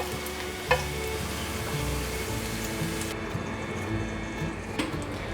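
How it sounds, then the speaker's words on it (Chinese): Shiitake mushrooms sizzle and fry in a little oil in a wok, a steady close crackle broken by a couple of sharp clinks of a spatula stirring. "锅内放入少许油，放入香菇，把香菇炒香"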